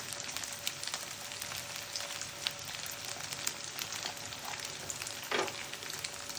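Egg frying in a pan for egg noodles, a steady, soft crackling sizzle with scattered pops and a brief scrape of stirring near the end.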